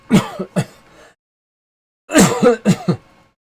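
Two bursts of coughing and throat clearing brought on by candy, a short pair of harsh rasps, a pause, then a louder cluster of three or four close, forceful coughs.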